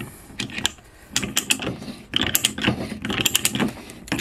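Ridgid 12-R pipe threader with several broken die teeth ratcheting as threads are started on a pipe, giving close, repeated clicking strokes in irregular bursts, with brief pauses between them.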